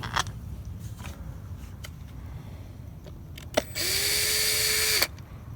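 A power driver runs screws back into the bed of a 1972 Chevy C10 short-bed truck, with a few light metallic clicks first, then one steady, close whirring burst of about a second and a half.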